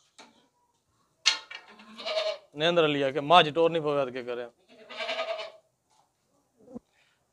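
A heavy, broad-chested male goat in an unfamiliar place gives several loud, wavering bleats up close, interspersed with someone speaking.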